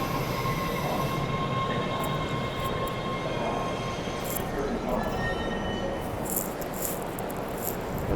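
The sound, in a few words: subway train to Ashmont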